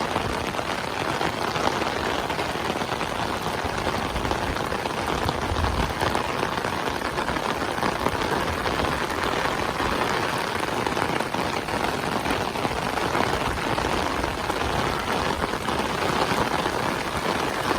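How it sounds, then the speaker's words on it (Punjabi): Heavy rain pours steadily in a Punjab village during a prolonged storm, a dense, unbroken hiss of drops on surfaces that stays loud and even throughout with no voices. "ਪੂਰਾ ਜ਼ੋਰ ਦਾ ਮੀਂਹ ਪੈਂਦਾ"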